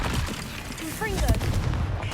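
Fire spell blast from a Hogwarts Legacy duel, a loud burst with booming low rumble and whooshing swells amid dense game combat noise, accompanied by a spoken spell cry.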